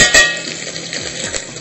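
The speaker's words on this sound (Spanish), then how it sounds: "dorar un poco de cebolla." Onion browning in oil in a frying pan for a clam dish in green sauce, giving a steady close sizzle with a brief clatter at the start and light stirring scrapes throughout.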